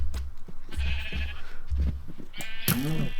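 Cows moo in the video game CruxCraft, with several short, bleating-sounding calls over low thumping game sounds, the clearest and loudest call coming near the end.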